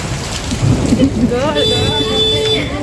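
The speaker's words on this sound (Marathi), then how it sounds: "अक्षय तृतीयाच्या दिवशी खरंच खूपच मुसळधार पाऊस झाला आमच्याकडे" Heavy rain hisses steadily throughout, with low rumbling underneath and a brief tonal, voice-like sound rising in the second half.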